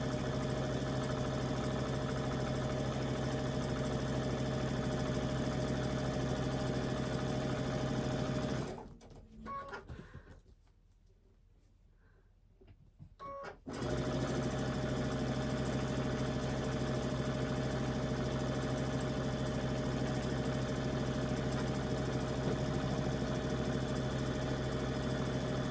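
A sewing machine stitches scrappy quilt pieces at a scant quarter-inch seam, running in a steady loud mechanical whir that stops abruptly for a few seconds of near silence, then resumes for a long continuous run.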